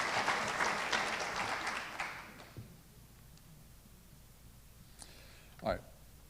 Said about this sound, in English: let's have one more round of applause for the clearly very, very handsome Philanthropist of the Year